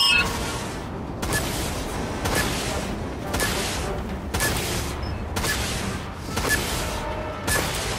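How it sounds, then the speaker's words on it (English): Missile launches from the video game Dreadnought: a series of loud, repeated booming bursts roughly every second or so, layered over a dense steady din of combat sound. "Launching vulture missiles."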